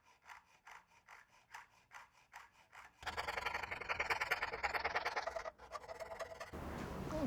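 Rhythmic back-and-forth hand sawing through aluminum pieces, about two strokes a second, then a louder continuous rasping cut, close and with no talking.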